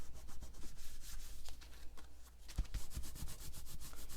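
A paper greeting card being rubbed down by hand to stick it onto glue, close soft rhythmic swishing strokes that are quiet and have no talking over them.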